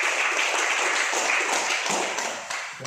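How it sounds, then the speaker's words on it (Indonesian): Applause for the committee chairman at the opening ceremony of a vocational school's TKJ skills exam in Nabire: steady, fairly loud clapping from a seated audience that holds for about three seconds, then thins toward the end. "Tepuk tangan dulu buat Ketua."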